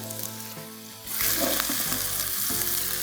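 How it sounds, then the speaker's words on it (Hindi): Chopped onions sauté in a pan with a broadband sizzle that jumps louder about a second in. Stirring and frying crackle continue, up close, for the rest of the cut, with no talk over them. "अनियन को कर रहा हूँ यहाँ पे सौते।"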